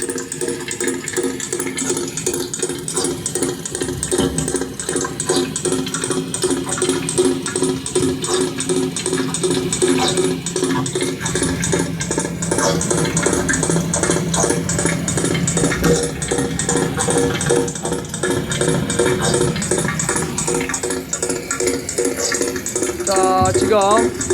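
A reciprocating compressor: rapid, steady mechanical pounding with dense rhythmic pulses and a hissing, rushing undertone, loud and continuous throughout like machinery running nearby.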